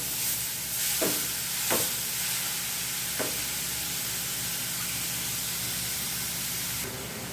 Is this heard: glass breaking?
no